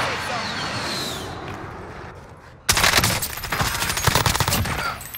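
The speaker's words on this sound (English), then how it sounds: "Friendly precision airstrike inbound." Call of Duty gameplay where a precision airstrike hits: a sudden loud burst of explosions and rapid gunfire erupts midway after a quieter stretch, with people talking over the game.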